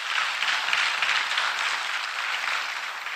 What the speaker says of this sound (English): I think the President deserves a better round of applause than that.